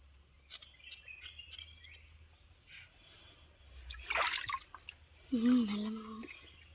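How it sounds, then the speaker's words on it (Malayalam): A forest stream setting where scattered insect chirps and tick-like clicks sound softly at a distance, joined by a brief louder bird call near the end, with low background hum and no clear talking. "നല്ല പക്ഷികളെല്ലാം ഒച്ച കേൾക്കുന്നുണ്ട് അല്ലേ കാട്ടിലായോണ്ട്"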